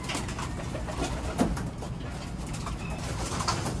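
Soft cooing of racing pigeons at a training session blends into a steady outdoor background hum, with a slightly louder burst near the middle; no talking.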